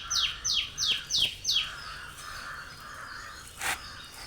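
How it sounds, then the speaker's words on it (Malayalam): A bird calls in a quick run of four or five sharp, descending chirps, then falls quiet before one louder call near the end, heard close with no talking. "ഒരു കിളിയുടെ കരച്ചിൽ കേൾക്കുന്നുണ്ട്."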